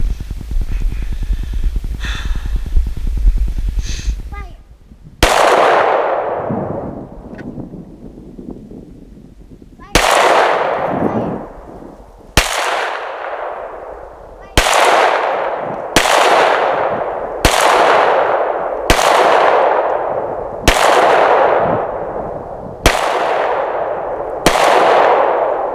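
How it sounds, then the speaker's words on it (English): Pistol shots fired on an outdoor range with a Zev Tech Fulcrum trigger ring out as about ten loud, sharp reports, spaced a second or two apart after a few seconds of wind noise, each followed by a ringing echo. "Alright, here we go. First shots. Getting ready to shoot."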